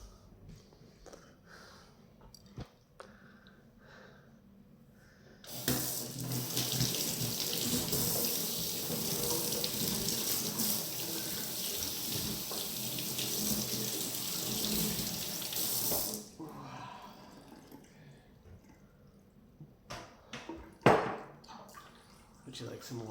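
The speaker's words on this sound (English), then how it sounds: "I'm just gonna wash my hands" A tap runs at a sink while hands are washed, a steady close splashing stream of about ten seconds between quieter moments with faint voice and small knocks around it.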